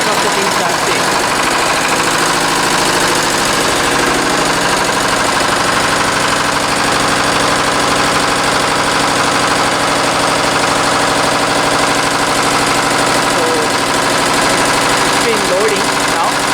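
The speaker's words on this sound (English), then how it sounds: "So once we start the engine" A single-cylinder four-stroke diesel engine on a test bench runs at a steady idle, a loud continuous drone with a fine repetitive knock that holds evenly throughout without voices.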